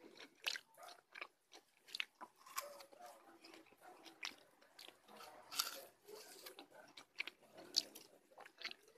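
Crisp, wet crunching of bites into a honey rose apple (jambu madu Deli), eaten for breakfast in a home terrace garden, followed by steady chewing with irregular close crunches over about nine seconds.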